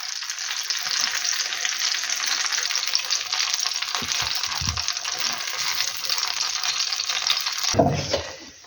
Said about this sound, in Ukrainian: Перець уже обсмажився, я на один вже забрала